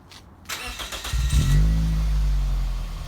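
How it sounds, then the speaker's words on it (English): Scion xB engine starting by remote start: a brief cranking chatter, then the engine catches and settles into a low, steady idle grumble, close by. "So I have a remote start."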